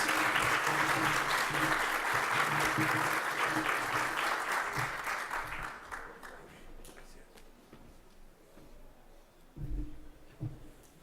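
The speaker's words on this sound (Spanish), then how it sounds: "Les pido un aplauso afectuoso para Luis Enrique Marius Martínez." A conference audience applauds warmly for a speaker. The dense, steady clapping lasts about five seconds before fading out, and quiet talk and a few shuffling sounds follow.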